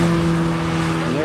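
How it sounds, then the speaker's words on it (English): A BMW race car on the track at VIR passes close by with a loud, steady engine drone that rises in pitch at the very end as it goes past. "Going to be seeing Ray coming through any second here in the BMW."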